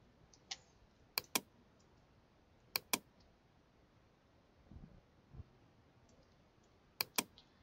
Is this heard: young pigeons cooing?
no